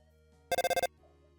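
Telephone ring from the video game Undertale: a short, loud burst of about six rapid electronic trills, heard alone over a quiet in-game background tone.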